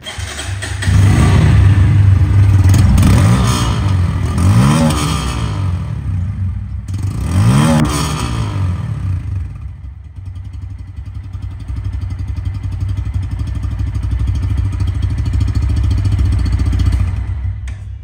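A Bajaj Pulsar N160 ABS fuel-injected motorcycle, nearly new, idles loudly up close and is revved repeatedly in rising and falling bursts, then settles back to a steady idle.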